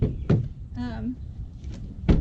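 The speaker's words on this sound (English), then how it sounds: "Now I do this high-tech method of slamming them in the door." A car door slams shut on kayak tie-down straps, two heavy thuds close by with a shorter knock between, while someone talks in the middle.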